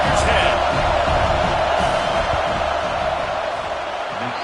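Loud, steady roar of a college football stadium crowd before a field goal attempt, a dense wash of cheering and yelling that holds throughout and eases slightly toward the end.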